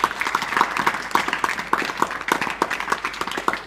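An audience at a gathering with devotional bhajan singing claps to welcome guests, the hands striking together in a fairly regular rhythm, loud and close, without pause throughout.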